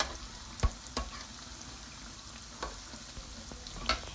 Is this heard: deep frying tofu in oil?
yes